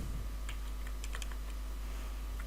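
Scattered keystrokes on a computer keyboard, a few quick clicks grouped near the middle, fairly faint over a steady low electrical hum.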